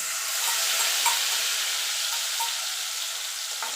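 A ground spice paste mixed with water hits hot oil tempered with whole garam masala for a vegetarian doi potol dish, producing a loud, continuous close-up sizzle and hiss that stays even throughout.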